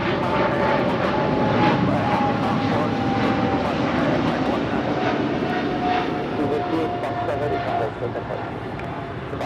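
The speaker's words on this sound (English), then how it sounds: "This is British Airways Flight 280 departing to London Heathrow on the 777-300ER." A British Airways Boeing 777-300ER departs Los Angeles International Airport, its jet engines a loud sustained roar that gradually fades, heard under a voice talking.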